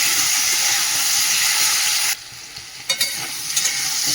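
Poppy seeds fry in hot oil with a loud, even hiss and crackle for about two seconds, then the sizzle drops off sharply, leaving faint bubbling and a few clinks.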